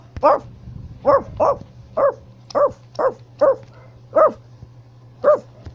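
A dog barks repeatedly, about nine sharp barks spaced irregularly over a steady low hum, fairly close and clear.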